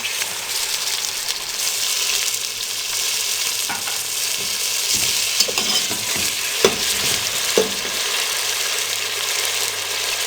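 Garlic, fennel and whole coriander paste stirred into onions frying in a pot for beef yakhni pulao, a steady close sizzle with scraping stir strokes and a few sharper clicks, no voices.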